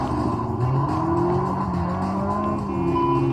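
A car whooshes past in a near miss during Test Drive Unlimited on PS2, with a loud steady engine drone, shifting tones and tire noise, close and continuous without talk.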